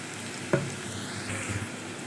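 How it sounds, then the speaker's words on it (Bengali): Chopped onions browning with spices in a pan over medium heat give off a steady, close sizzle, with one brief clatter near the start and no voices. "আমি চুলার আঁচটাকে মিডিয়ামে রেখে মশলার সঙ্গে পেঁয়াজটাকে বাদামি করে ভেজে নিচ্ছি"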